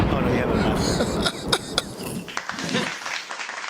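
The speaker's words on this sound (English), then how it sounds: "Thank you very much for the applause." An audience at a podcast recording claps in a short burst that quickly breaks into a few scattered, isolated claps, with coughs and someone talking nearby as the applause dies away.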